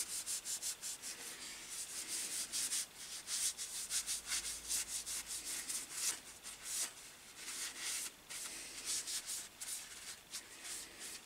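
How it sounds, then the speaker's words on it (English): Cloth rubbing over a small axe blade in repeated quick back-and-forth strokes, a soft, close, rhythmic scrubbing with no talk. "Just to stop the blade getting quickly rusty, let's get that wipe over as well."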